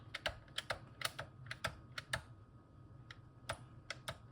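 Keys are pressed one at a time on a COMX-35 home computer keyboard, some of them faulty, giving sharp, irregular clicks with short pauses between them, close but quiet against a low background hum.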